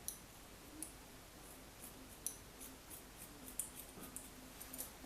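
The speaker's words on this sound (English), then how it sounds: "Watch when I cut the hair." Quiet, close scissor snips cut through hair while trimming bangs, a series of sharp irregular clicks against a soft background hiss.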